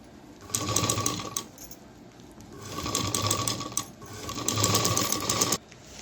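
A sewing machine stitches a folded strip onto a cloth shopping bag made from an old gown, running in three bursts of rapid, rattling stitching separated by short pauses, close and clear with no talking.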